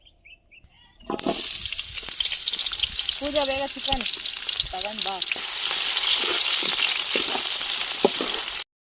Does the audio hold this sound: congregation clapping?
no